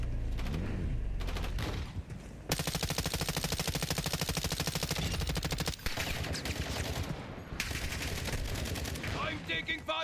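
Rapid automatic gunfire from Call of Duty: Black Ops 6, loud sustained bursts with fast regular rhythm, broken by short pauses, with voices and game sounds mixed in.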